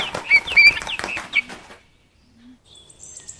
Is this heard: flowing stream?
no